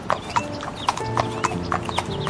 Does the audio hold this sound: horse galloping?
yes